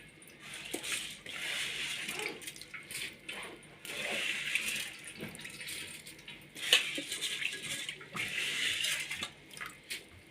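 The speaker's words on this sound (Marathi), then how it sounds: "अशा पद्धतीने खाली पाणी पडत आहे" Water dripping and trickling out of soaked bajra millet spread on cloth for kharodi, a faint irregular patter of drops with small wet squishes, fairly close and without talk.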